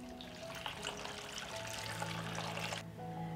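Water poured into a cooking pot holding sliced carrots, a steady close trickling and splashing stream that runs continuously before cutting off near the end.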